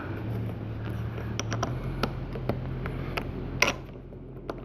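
Handlebar mount for a GoPro being tightened on a 2007 Suzuki Bandit motorcycle, giving a run of small close ratcheting clicks and creaks over a low steady hum, with one sharper clack near the end.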